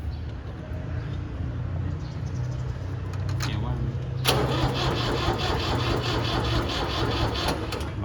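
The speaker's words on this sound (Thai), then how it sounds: "เดี๋ยวลองสตาร์ทให้ดู แต่แบตมันน่าจะออนอยู่นะครับ" A walk-behind tractor engine cranks and catches, a steady mechanical churn that turns into a louder buzzing run partway through, with someone talking over it.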